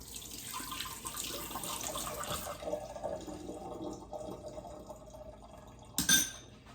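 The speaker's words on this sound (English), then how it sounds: "I'm gonna wash my spoon." A spoon being rinsed under a running kitchen tap, water splashing steadily and faintly into the sink before stopping, ending with a brief bright clink of metal.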